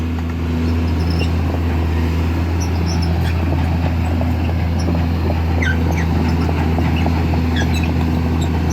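A farm tractor runs continuously nearby while stuck in a sandy rice field, a steady loud engine drone with a low hum and clattering, alone without talk.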